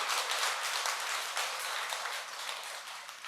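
An audience at the Suryukjae water-and-land Buddhist ceremony at Jingwansa temple in Korea applauds, a dense steady clapping that stays even throughout with no voices.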